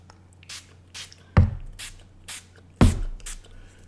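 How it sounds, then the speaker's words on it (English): A fine mist spray bottle sprays onto watercolor paper in short hissing bursts, five or six puffs in under four seconds, two of them louder with a sharp trigger click. "I'm going to take this fine mist spray now, and I'm going to just kind of spray around the edge"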